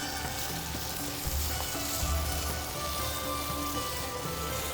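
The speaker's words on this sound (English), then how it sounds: "pick the ladle up and start transferring the broth in" Broth ladled into a hot pot of thari gosht sets off a steady, dense sizzle and crackle, with a few low splashes and stirring knocks.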